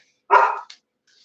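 A single sharp dog bark rings out close and loud with a brief trailing yip, then silence, heard during a talk-show broadcast.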